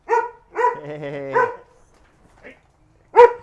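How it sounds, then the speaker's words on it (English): A dog barks in a small indoor workshop, a few close, loud barks and a drawn-out whining yelp, then a short pause and one more sharp bark. "Comes the attack dog."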